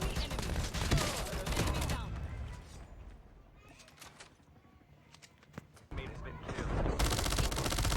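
Gunfire in a World War II shooter video game: bursts of rapid shots at the start and end, with a quieter stretch of scattered single shots and effects in between.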